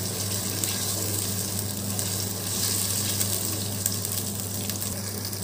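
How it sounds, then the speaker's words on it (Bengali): Ground spice paste fries with browned onions in a pot for chicken biryani, a steady close sizzle with faint stirring underneath and a low hum, no voices. "এখন আমি ওই বাটা মশলাটুকু দিয়ে দিব। সেটা করে হালকা একটু ভেজে নিব"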